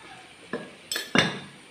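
A utensil clinks against a pan as sliced onions with a little salt are stirred and sautéed in leftover oil, making three quick close scraping knocks over a faint background.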